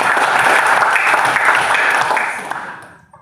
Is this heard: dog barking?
no